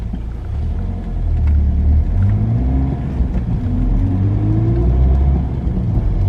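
A car's engine runs steadily after being restarted on the move with no power steering, a loud close rumble that rises gradually in pitch as it pulls along, heard alone.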